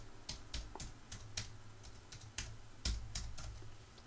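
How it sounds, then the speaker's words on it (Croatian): Keyboard typing into a computer browser's address bar, a quick series of close, crisp key clicks in an uneven rhythm with short pauses, alone without talk. "tako što ćemo u adresnu traku ovdje upisati tinkercad.com"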